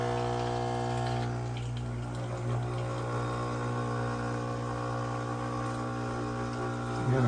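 A Jura ENA 4 coffee machine draws water through a newly installed filter, giving a steady pump hum with trickling water, close and continuous.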